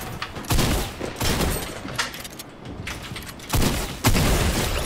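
Rapid, loud gunfire bursts from a Fortnite match, sharp repeated shots and booming reports clustered close together in a busy online battle.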